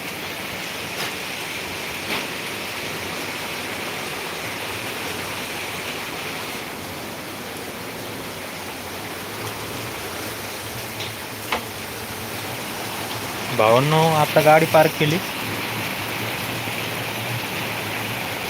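A heavy downpour in Ahilyanagar pours down as a dense, unbroken hiss. Someone speaks briefly, and a short burst of wavering tonal sound rises near the end.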